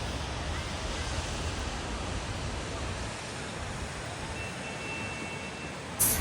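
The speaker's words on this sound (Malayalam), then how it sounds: "ഇവിടെ ഒരു വെള്ളച്ചാട്ടം ഉണ്ട്, ഞാൻ നിങ്ങളെ കാണിച്ചു തരാം" A steady, broad roar of rushing water fills the scene throughout, like a waterfall heard nearby, with a brief louder burst right at the end.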